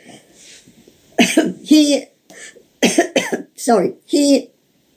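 Several loud coughs in quick bursts, close to the microphone, some with a rough, raspy tone.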